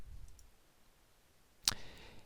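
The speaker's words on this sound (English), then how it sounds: "I'm going to click on the little Save button up here" A single sharp, close mouse click lands on a Save button in web page editing software, standing alone against a faint background hiss.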